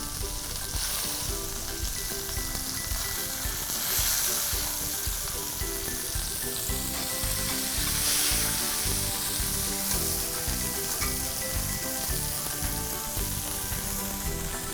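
Beef tenderloin steaks sear in a pan of butter and olive oil, crackling and sizzling in a steady, close, continuous spatter.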